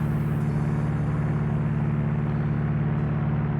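A plane's engine drones on steadily in the X-Plane 11 flight simulator, a constant loud low hum with no breaks or talk.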